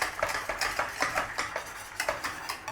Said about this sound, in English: Just stir it through nice and gently